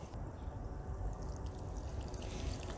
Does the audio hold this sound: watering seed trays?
yes